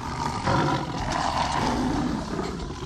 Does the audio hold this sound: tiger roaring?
yes